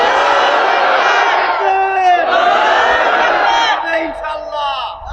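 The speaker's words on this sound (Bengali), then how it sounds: "দাও জোরে মারো, তাকবীর দাও।" A crowd at an outdoor Islamic sermon gathering in Rangpur roars a takbir chant in loud, sustained unison shouts that rise and fall in a few waves.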